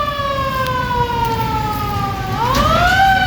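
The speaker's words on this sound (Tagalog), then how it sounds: "Oh, the fire truck is there." A fire truck siren wails loudly and steadily nearby, holding a long, slowly falling tone before sweeping back upward near the end, with traffic rumbling underneath.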